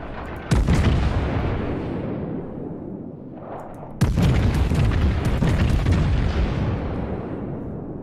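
Warship main guns fire in World of Warships, two heavy booming salvos a few seconds apart, each a sharp loud blast followed by a long rumbling roar that slowly fades.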